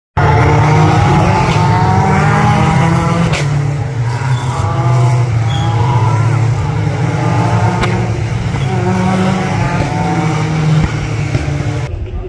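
Race cars roar through the streets of the Pau Grand Prix 2023 in France, a loud continuous engine drone with shifting pitch, tire squeal and passing cars blending into one another, close and sustained.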